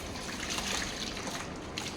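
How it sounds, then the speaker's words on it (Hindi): Lukewarm water poured over a pet dog during a bath at home, a steady trickling and splashing stream that swells slightly and then eases, close and fairly loud with no talk over it. "गुनगुनी पानी से नहलाना है इसको।"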